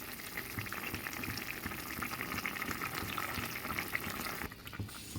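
Hot water poured into a simmering pot of parshe fish and eggplant curry, a steady gushing, bubbling sizzle that runs continuously at moderate level before easing off near the end.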